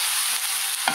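Potatoes frying in a pan, turned golden, with a steady hissing sizzle throughout and a small scrape of stirring near the end, close and fairly loud, with no voices.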